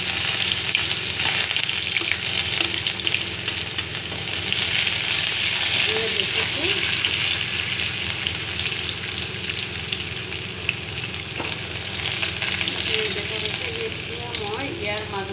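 Onions fry with cumin seeds in hot oil, making a continuous loud, close sizzling hiss that holds steady throughout with occasional faint stirring clinks.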